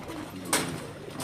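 Rooftop pigeons coo softly in a short burst, with a brief brighter flutter or rustle in the middle; the calls are faint and low, set against quiet outdoor ambience.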